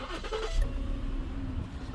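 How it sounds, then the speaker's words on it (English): A 2011 Ford Edge engine starts up, a brief cranking burst early on settling into a steady, fairly close idle hum. "I'm gonna turn on the engine."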